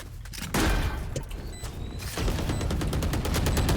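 Rapid gunfire from a Valorant match, with dense bursts of shots that swell loud and continue in quick succession for several seconds, close and forceful.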